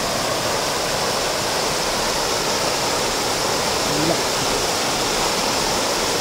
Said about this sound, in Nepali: अहिले बर्खा लागेसँगै पानी मजाले बगिरहेको छ